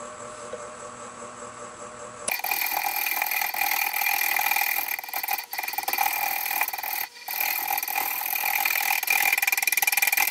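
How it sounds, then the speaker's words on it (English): A wood lathe spins a mesquite bowl at 300 RPM, giving a steady, loud mechanical whir that starts abruptly and runs continuously, with two brief dips. "Okay, so that's spinning 300 RPM."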